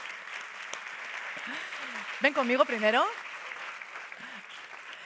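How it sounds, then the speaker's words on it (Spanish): An audience applauds to welcome a guest to the stage at a talk event, moderate clapping running steadily beneath a voice that speaks briefly in the middle. "un aplauso para el hombre"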